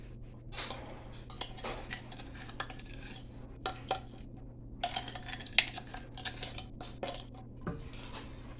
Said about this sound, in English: Let's give it a stir in the meantime.